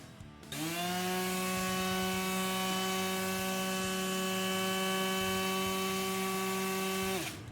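DeWalt cordless sheet sander running on high, a steady close whining hum with a strong buzzing tone that starts abruptly, holds evenly for about six and a half seconds, then winds down.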